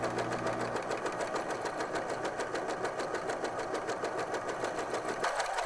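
Sewing machine running steadily and stitching a seam in sweater knit fabric for a cardigan, a fast, even mechanical whir with a rapid needle patter, close and continuous throughout with no talk.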